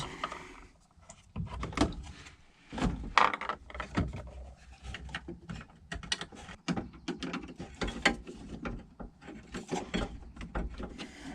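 A screwdriver works screws into a Land Rover Defender dashboard, giving irregular close clicks, ratcheting scrapes and knocks that come in short bursts with pauses between them.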